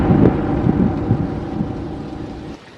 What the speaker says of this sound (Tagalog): Maulan guys eh.